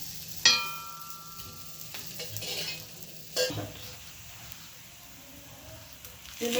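Rice flour mixture is stirred in a pan with intermittent scraping strokes over a faint sizzle, punctuated by a few sharp clinks against the pan.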